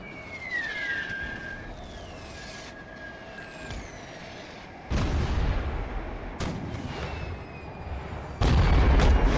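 Howitzer artillery in the video game Napoleon: Total War, with heavy booming shots landing at intervals, each a sudden loud blast with rumbling low end, over a background of whistling shells and distant battlefield noise.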